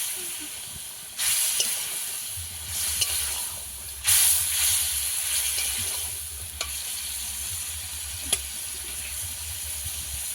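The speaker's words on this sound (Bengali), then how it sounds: "একটু অল্প জল দিয়ে এই জলটাকেও দিয়ে দেব" Water poured into a pan of frying fish spice paste hisses and sizzles, with sharp bursts of steam and stirring clatter, close and fairly loud throughout.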